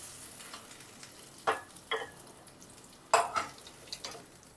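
Potatoes frying in oil in a home kitchen give a low, steady sizzle, broken by several sharp scraping and clinking spatula strokes as pieces are lifted out one by one.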